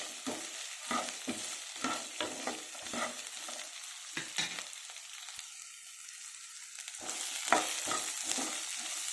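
Soya chunks fry in oil with a crackling sizzle and a run of rhythmic scraping stirs, then a brief lull before more stirring strokes and frying noise resume near the end.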